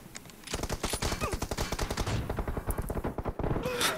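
Rapid automatic gunfire from the video game GTA 5, a dense string of evenly spaced loud shots running almost the whole time with a brief pause near the end, and no talking.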